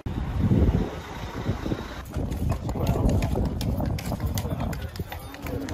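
Horse hooves clip-clop along a street in Egypt, a steady trotting patter half-buried under gusty wind noise, with people talking nearby.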